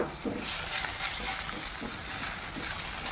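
Tomato frying with onion in hot oil, a steady close sizzle with a soft hiss throughout and faint stirring textures underneath.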